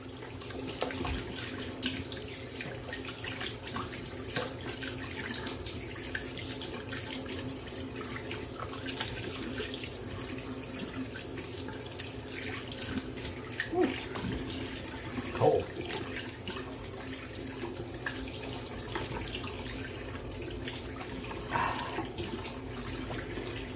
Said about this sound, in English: Alright, rinsing off.